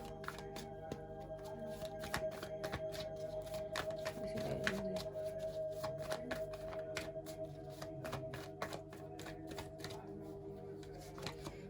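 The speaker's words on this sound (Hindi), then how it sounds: "बहुत सारे कार्ड्स हैं, हम एक टाइम पे एक कार्ड लेंगे।" Tarot cards are shuffled and drawn one at a time, with a rapid, even run of crisp flicking clicks over a steady low background hum, soft and close, with no voices.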